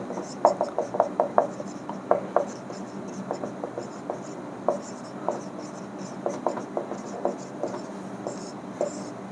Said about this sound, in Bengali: এখানে এলিমিনেশন রিয়াকশন কথাটা লিখে রাখি